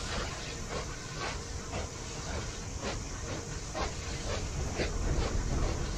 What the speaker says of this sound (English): This stupid choo-choo toy train.